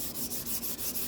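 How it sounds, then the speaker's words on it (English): Sandpaper of 400 grit rubs lightly over sanding sealer on a guitar neck in a few quick, soft back-and-forth strokes, close and alone. "Gonna sand it down with a little bit of 400 grit, just a light"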